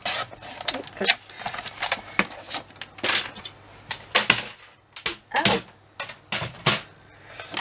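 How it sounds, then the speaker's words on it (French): A file rasps along the edge of paper in a album-making craft project, giving repeated short scraping strokes in an uneven rhythm, close and fairly loud, with no talk. "Je vais juste limer un petit peu"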